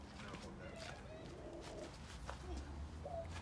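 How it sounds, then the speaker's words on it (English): Doves and pigeons coo softly at a bird testing site, several low hooting calls spread across the moment, faint and close, with people talking quietly. "Doves and pigeons."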